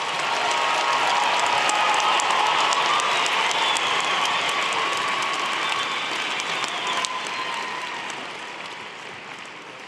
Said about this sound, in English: We now invite your applause for the history graduates.